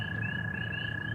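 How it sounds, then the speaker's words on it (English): A single frog croaks in a steady, continuous high trill that holds at an even level, fairly close and with no talking over it. "That one frog agreed."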